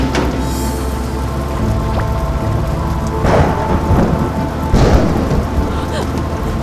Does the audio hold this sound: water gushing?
no